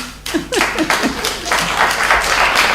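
An audience at a poetry-recital finals claps briefly, scattered handclaps swelling into a short burst mixed with a speaking voice.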